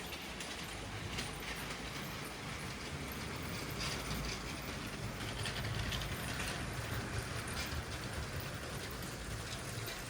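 LEGO train cars roll behind a Maersk locomotive on a model railway layout, a soft continuous rumble with faint clicking from the track, fairly quiet and without talk.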